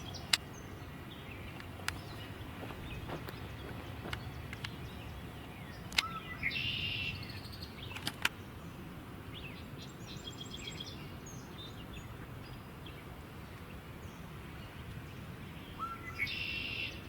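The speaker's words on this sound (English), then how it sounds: "that is a great crested flycatcher that we just heard" Great crested flycatcher calls in woodland, a few brief, bright whistled notes standing out at moderate distance over a steady hiss of insects and other birdsong.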